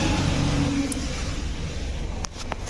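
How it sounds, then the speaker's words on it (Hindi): A car approaches and drives by, giving a steady engine rumble with a rising and easing roar at moderate distance, and a few faint clicks near the end. "तो अब देखिए ये दूसरा गाड़ी आया है"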